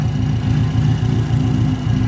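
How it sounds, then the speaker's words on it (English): Car engine idling while warming up, a steady close rumble with an even low pulsing throb that stays constant and loud with no revving. "Alright, so now we're letting the car get warmed up."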